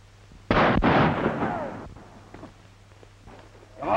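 A single sharp gunshot in a 1934 western film cracks out loud and close, followed by a ringing echo that fades over a couple of seconds, with faint rustles and a second burst of noise at the end.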